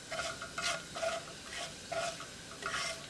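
Cumin seeds frying in hot olive oil in a pot, stirred in a steady rhythm of about six soft scraping strokes over a faint sizzle, quiet and close, no talking.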